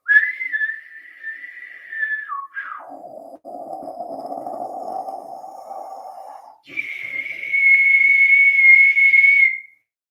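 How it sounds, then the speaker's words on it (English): Person whistling in long sustained tones, starting with a high note, sliding down to a lower breathy pitch, then jumping back to a bright high note held clearly and alone until the end. "You can even whistle."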